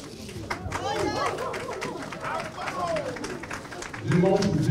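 Congregation at a temple dedication cheering and clapping as the temple's name is unveiled, a dense crowd roar of voices with scattered applause throughout, growing louder and fuller near the end.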